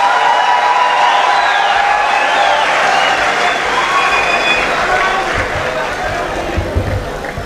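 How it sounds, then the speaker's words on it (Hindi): An audience at a university Urdu poetry gathering claps and cheers to welcome the poet Shahzad Mehdi. Dense, continuous applause fills the hall at full volume, with crowd babble mixed in. "भरपूर तालियों में इस्तकबाल कीजिएगा जनाब"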